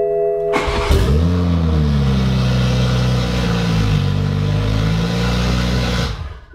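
A 2020 Toyota Supra cranks and fires up in neutral, settling into a loud, steady idle with a brief rise in revs, then shuts off abruptly after a few seconds, close by.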